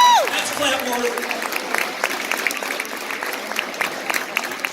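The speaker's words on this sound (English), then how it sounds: "You got to put your hands together for that." Audience applause for a conference-champion middle school boys basketball team, a steady wash of clapping filling the room with a few cheers, and a voice briefly over the start.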